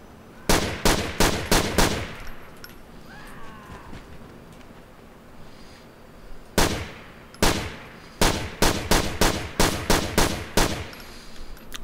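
Rapid bursts of Beretta pistol fire in a modded Grand Theft Auto IV, loud and close, coming in quick clusters of shots with short pauses between volleys.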